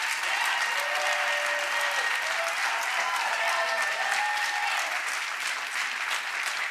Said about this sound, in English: the applause is almost as loud as it was when I would watch you walk out on the court